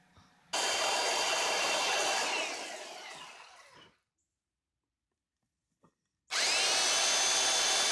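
A power drill whirs loudly as it bores into wooden blocks for a knife handle, winding down and stopping, then after a pause a second burst of drilling starts up.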